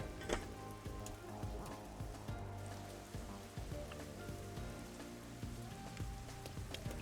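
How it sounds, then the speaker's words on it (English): Rain falling in the video game Master Detective Archives: Raincode, a steady close patter of drops on surfaces with scattered ticks, continuous and even with no talking. "Listen to the rain."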